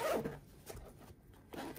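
The zipper on a sewn toiletry bag is handled close up, with a couple of short soft zip rasps and light fabric rustling, faint and with no talking.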